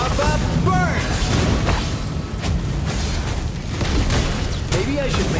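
Fiery burst and booming impacts of Valir's Lava Burst skill in a solo ranked mobile battle game, a dense loud blast layered with crackling hits and whooshes, under a continuous wash of game effects and voiced lines.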